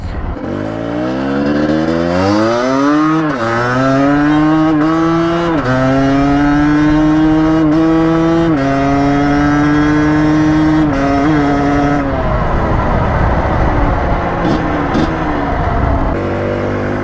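A two-stroke motorcycle engine with a quick shifter revs hard and close, its pitch climbing in steps with brief dips at each upshift, then it settles into a rougher, fluttering drone.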